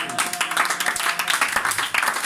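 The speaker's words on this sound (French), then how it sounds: "Donne-moi une acclamation." A church congregation applauds during a Sunday service, making a brief, dense wash of clapping from many hands with a few voices mixed in.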